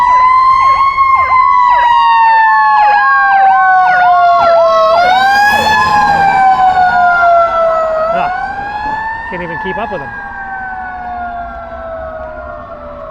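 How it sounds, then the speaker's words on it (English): Siren on the presidential fire engine of Engine Company 16, first due at the White House, wailing loudly and close with rising and falling sweeps, then a steady drawn-out tone as the truck passes and moves off, with a brief spoken comment over it. "Oh, this is the president's fire truck. This is engine company 16."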